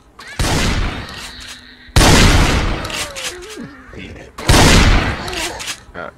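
Three loud bursts of gunfire ring out in the zombie survival game Project Zomboid, each a sharp blast trailing into a roaring decay, spaced about two seconds apart with a bit of tonal game sound between.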